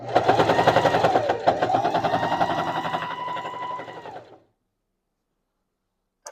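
A sewing machine runs steadily through thick fabric for a throw pillow. The stitching is a dense, continuous mechanical rattle for about four seconds, then it stops abruptly and silence follows, broken by one faint click at the end.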